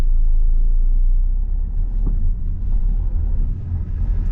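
A car engine rumbles steadily at low pitch during a driving lesson, with muffled cabin road noise and a slight drop then gradual rise as the car accelerates gently.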